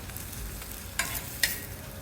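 Quiet, soft sizzle of thepla flatbread cooking in oil on a hot tawa griddle, punctuated by two brief, sharp scraping clinks.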